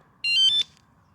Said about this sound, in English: Once you hear that beep, there's the warning.